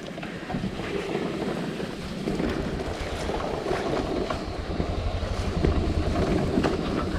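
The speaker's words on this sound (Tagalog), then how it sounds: "Ayaw tumigil ng motor ko." A stuck motorcycle engine that keeps running and won't shut off, a steady droning hum with wind noise buffeting the microphone, loud and continuous.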